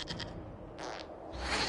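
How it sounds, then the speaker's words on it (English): A goat in a PS4 video game lets out short bleating cries, a harmonic burst at the start and another midway, with a noisier rising sound at the end, moderately loud over game ambience. "we discovered this man attacking the building with a goat."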